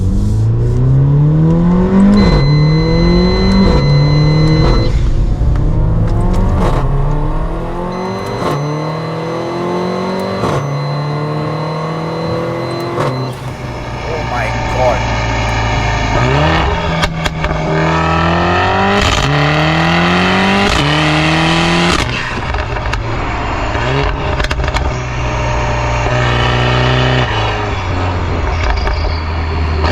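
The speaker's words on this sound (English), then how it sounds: "The noises that this car makes is absolutely insane." A Weistec-tuned Mercedes-AMG GLA45 with about 450 horsepower and an ECU and TCU remap revs and accelerates hard. Loud, close engine roars climb through repeated rising sweeps, broken by quick shifts and pops, with a brief exclamation heard once.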